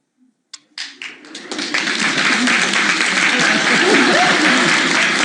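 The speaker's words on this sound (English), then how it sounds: "Keep applauding, kids." Studio audience on a 1950s quiz show breaks into applause, starting with a few scattered claps and swelling into steady, loud, sustained clapping.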